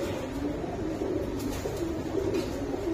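Pigeons coo continuously in a low, murmuring drone, steady and fairly close, with no voices over it.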